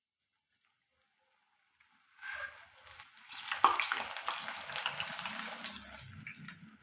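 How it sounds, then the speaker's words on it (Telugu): A puri dropped into hot oil in a kitchen: near silence, then a sudden loud sizzle and bubbling that continues steadily and close by. "ఆయిల్ అయితే బాగా వేడెక్కిందండి ఇప్పుడైతే పూరి వేసేసుకుందాం"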